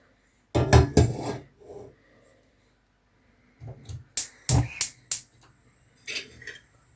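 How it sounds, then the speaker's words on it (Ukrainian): A saucepan set down on a stovetop while preparing pickling marinade, with a few sharp metallic clunks and clicks in two short bursts separated by a pause, close and fairly loud. "Кастрюльку ставлю на вогонь."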